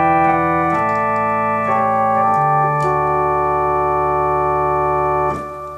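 Hammond-style tonewheel clone organ on a principal registration with the keyboard split, manual bass sustained under the left hand while right-hand chords hold and change in slow steps over about five seconds, loud and alone.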